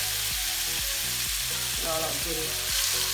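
Tofu cubes fry in coconut oil, a close, steady, even sizzle over a low humming tone in the background.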